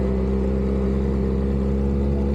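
A Kawasaki motorcycle engine, a KR1S or ZX-4RR sports bike being run in, idles and revs steadily up close after a push-button start, with a deep, continuous throb and no talk.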